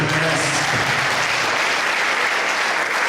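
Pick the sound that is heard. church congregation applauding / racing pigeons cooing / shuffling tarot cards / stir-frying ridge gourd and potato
church congregation applauding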